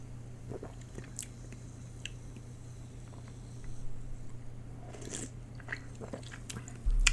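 Sugar-free Mountain Dew being tasted: quiet sips and mouth sounds, faint swallowing and small clicks over a low steady hum, close and soft.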